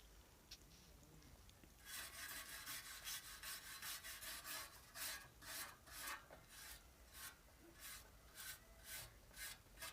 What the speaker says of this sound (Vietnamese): Mình dùng cái bàn chải sắt này mình cọ đi một lúc thì cái lớp sơn nó được tẩy ra rất là nhanh